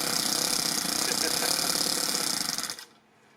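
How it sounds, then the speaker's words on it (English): A small Toyan FS-S100G 4-stroke gas engine fitted in an RC car runs with a rapid, buzzing chatter, loud and close. It sputters and cuts out just before the end, leaving near silence. "Sounds like a 4-stroke as well, eh?"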